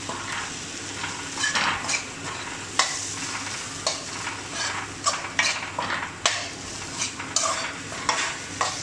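A spoon works potato and okra masala around a hot pan for aloo bhindi, making repeated scraping strokes and clinks in an uneven rhythm over a steady background sizzle, close and clear with no speech.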